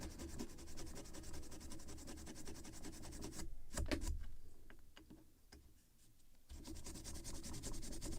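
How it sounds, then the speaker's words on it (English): A small model ship gun-carriage part is rubbed with a Scotch Brite pad in quick, repetitive scrubbing strokes, close and quiet, pausing briefly for a few light taps before the scrubbing resumes. "if I will polish it also with Scotch Brite"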